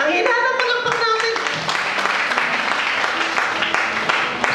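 An audience claps for several seconds at a church-style gathering, a dense steady patter with tonal music or voices fading out early, the applause filling the room close and loud.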